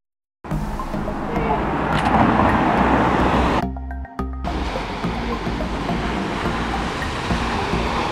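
A very dirty car driving along a road in Devon, with a steady loud rumble of engine and road noise throughout, briefly cut off by a short drop near the middle.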